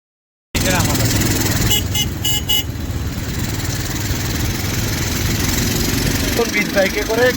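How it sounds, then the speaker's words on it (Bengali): A beach bike motorcycle rides along the sea shore at Cox's Bazar, its engine a steady, close drone with slight rise and fall, while people talk intermittently over it. "বিচ বাইকে করে ঘুরে বেড়াচ্ছি"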